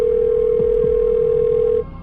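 Outgoing phone call tone: a steady electronic ringback tone held for nearly two seconds, then cutting off abruptly.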